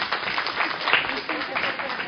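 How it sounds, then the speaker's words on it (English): Audience clapping in agreement during an online early-learning teacher training session, a brief burst of many hands at moderate loudness, heard alone without talk. "let's clap if we agree with that."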